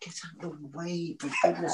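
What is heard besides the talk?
dog whimpering in the room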